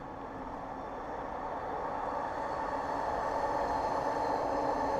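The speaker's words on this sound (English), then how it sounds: "Oh, and here comes the other train." A train rumbling past outdoors at a distance, a broad steady roar that swells gradually over five seconds with no voices.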